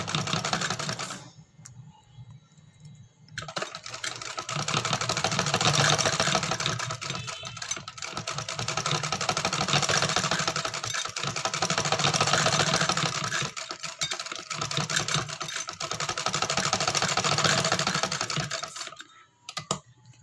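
A sewing machine stitches lace onto a kameez in long, steady, rapid runs, pausing briefly near the start and again at the end, close and clear with no talking.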